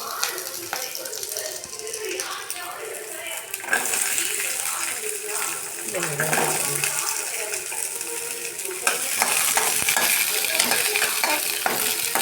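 Curry leaves, garlic and onion fry in hot oil, giving a steady sizzle with stirring scrapes that grows louder and denser toward the end, with a voice talking at times underneath.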